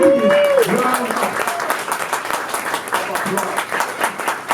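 An audience at a panel discussion breaks into applause right after a voice speaks, with steady clapping that continues and gradually thins.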